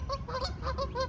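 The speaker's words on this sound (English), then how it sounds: "More geese." Geese honking in a park, a close group calling in repeated nasal honks, several overlapping calls in quick succession over a low outdoor background rumble.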